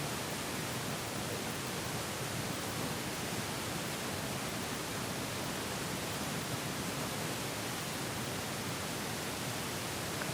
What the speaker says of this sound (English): Think it's picking up too much of this fan noise?